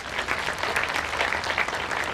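Audience at an anniversary celebration event applauding, a continuous crackling wash of many hands clapping at moderate volume that fills the whole moment without speech.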